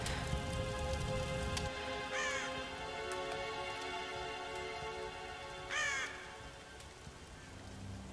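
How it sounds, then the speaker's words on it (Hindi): Crows cawing both inside the Tomb Raider video game and in a tree outside a room, two short harsh caw bursts about three and a half seconds apart over a steady rain-like hiss and low background drone. "मेरे रूम के बाहर भी पेड़ के ऊपर कौवे बोल रहे हैं और गेम की के अंदर भी कौवे बोल रहे हैं।"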